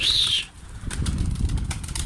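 A pigeon's wings flap briefly, a soft fluttering close by, amid a noisy outdoor background with a faint high whistle at the start.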